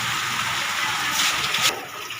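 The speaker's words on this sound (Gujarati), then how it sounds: "વરસાદ વધારે આવે છે ગાઈસ." Heavy rain pours down in a steady, dense hiss, swelling briefly louder near the end, close by with no voices.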